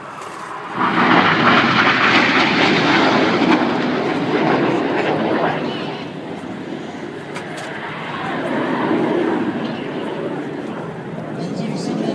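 RAF Red Arrows display jets fly over Silverstone: a loud, broad jet roar sweeps in and holds, fades, then swells again, with a voice speaking over part of it.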